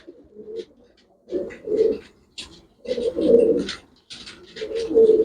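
Pigeons cooing in several low, throaty bursts separated by short pauses, close by and fairly clear, with no talking.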